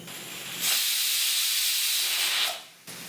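A loud, steady high-pitched hiss of steam whistling from a pressure cooker for about two seconds, then cutting off abruptly with a brief quieter hiss after.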